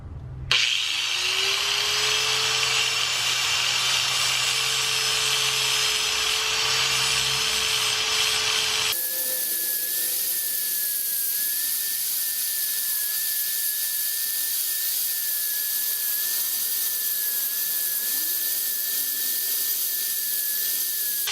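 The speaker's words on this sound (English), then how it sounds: "I'm just going to step on it and then grind the crap out of it" Loud, steady grinder whine cutting through a bike chain held underfoot, a continuous harsh roar that shifts pitch partway through and carries on without pause, no talking.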